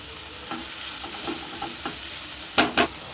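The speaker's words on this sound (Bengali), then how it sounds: "এবার আমি ভেজে রাখা চিকেন আর এই যে ক্যাপসিকাম গাজরগুলো দিয়ে দিলাম।" Chicken, capsicum and carrots stir-frying in a pan, a soft steady sizzle with a few scraping stirs and two louder clatters near the end, no voices.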